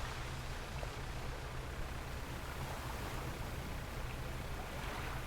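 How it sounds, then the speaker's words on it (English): Ocean waves in the fishing game Dredge, a continuous dense wash of surf noise with a low rumble underneath, steady and unbroken throughout with no talking. "Big waves."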